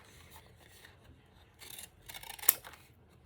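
Scissors snip around the front of a greeting card in a few quiet, close, short cuts, ending in one sharper snip, with no one talking.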